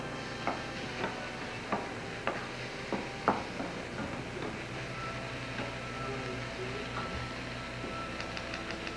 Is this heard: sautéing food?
yes